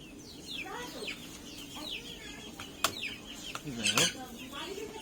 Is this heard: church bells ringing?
no